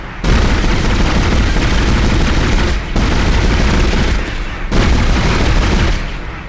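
Sustained loud gunfire from the Dead Space video game, dense rapid bursts hammering almost without pause in three long volleys separated by brief gaps.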